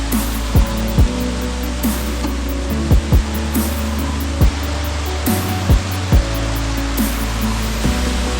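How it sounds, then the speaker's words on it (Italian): Steady roaring rush of a waterfall in Indonesia, loud and continuous, with a few sharp low thumps scattered through it. "Stiamo scendendo verso le cascate."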